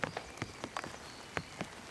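Raindrops land on a forest shelter built with bark and moss, as separate close taps in an irregular rhythm over a faint, soft background hiss.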